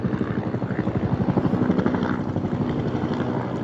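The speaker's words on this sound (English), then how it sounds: "So I wonder if that helicopter's here." A helicopter flies overhead on a cloudy day, its rotor beating in a steady, loud rhythmic chop with no other sound standing out.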